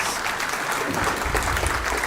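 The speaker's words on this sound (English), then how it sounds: "let's give Jim another round of applause." Applause from a lunchtime history lecture audience, a short continuous wash of many people clapping, even in level throughout.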